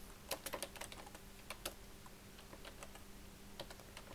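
Typing on a computer keyboard while entering data into Microsoft Excel: a quiet, uneven run of crisp key clicks at moderate pace, with a few louder taps clustered early and scattered strokes after.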